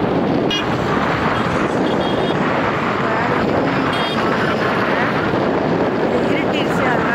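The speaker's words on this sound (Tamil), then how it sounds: "சரியான காற்று." Strong coastal wind buffets the microphone near the Pamban Bridge, a loud continuous roaring rush that fills the whole clip without pause.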